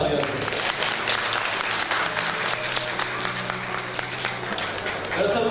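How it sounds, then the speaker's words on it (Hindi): An audience at a numismatic music album release ceremony gives strong, dense applause that lasts throughout, with a voice faintly audible beneath the clapping. "इनकी तरफ से हम एक बार जोरदार तालियां दें।"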